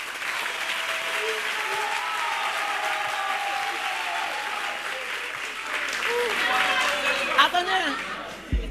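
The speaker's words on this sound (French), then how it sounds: "Aurélie et Yann et David Taillon, on les applaudit s'il vous plaît." Audience applause at a live French comedy show, a steady crowd clapping sustained throughout with some chatter beneath, swelling slightly near the end.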